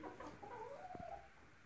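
Hen clucking in a farmyard flock of laying hens, a few close, throaty clucks forming a short murmuring phrase with soft background noise and no talk.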